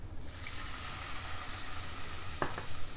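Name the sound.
red wine sizzling in hot pan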